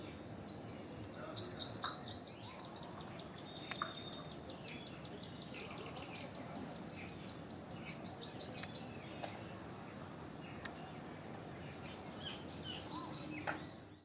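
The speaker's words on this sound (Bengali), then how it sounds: "এত সুন্দর পাখির কিচিরমিচির আওয়াজে সকাল সকাল মন ভরে যায়।" Birds chirp from a rooftop in the morning in two clear bursts of rapid, high, trilling notes separated by a quieter gap, over soft outdoor background hum and faint insect-like ticking.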